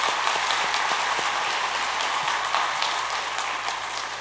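A church congregation at a Sunday afternoon service applauds its teachers, a dense, steady wash of many hands clapping that fills the room for several seconds and tapers slightly toward the end.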